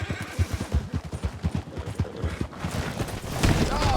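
Frightened horse whinnies and snorts after gunshots, with a rapid run of sharp, percussive hoof or shot-like impacts and a louder neigh near the end.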